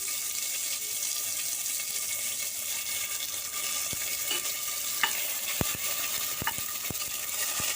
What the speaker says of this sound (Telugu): అల్లం వెల్లుల్లి పేస్ట్ వేసి పచ్చివాసన పోయే వరకు కలుపుకుంటూ వేయించుకోవాలి